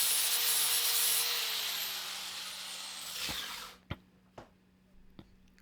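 A 120 grit sanding disc grinds across plywood for a lamp build. It makes a loud, steady, close rasping hiss, then the tool winds down and a few sharp knocks follow.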